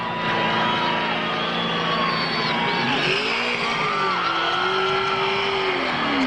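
NASCAR stock cars roar at high speed during a race crash, a dense, loud, continuous engine drone with wavering pitch sweeps from skidding cars, and a commentator's voice partly buried in the noise.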